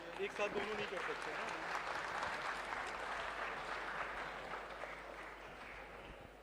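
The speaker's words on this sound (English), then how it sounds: "Please join me in welcoming Professor Haider with a big round of applause" An audience at the IIT Delhi Open House gives a sustained round of applause to welcome Professor Haider, dense clapping that continues throughout and eases off slightly toward the end.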